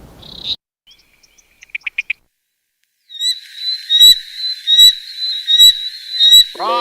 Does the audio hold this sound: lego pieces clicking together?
no